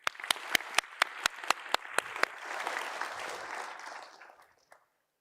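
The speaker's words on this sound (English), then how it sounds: "So let's applaud her once again." Audience applauding at a university academic-year inauguration, opening with a string of loud, evenly spaced single claps before a fuller round of applause swells, then fades out near the end.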